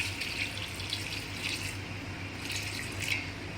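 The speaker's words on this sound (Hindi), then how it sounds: "अब इसमें जाएगा पानी।" Water trickles into a mutton karahi while cooking, a faint steady splashing stream close by with a low hum in the background.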